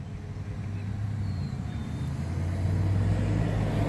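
A big truck rig rolls past nearby, a steady low rumbling engine drone that swells slightly as it goes by, heard from the roadside with no talk over it.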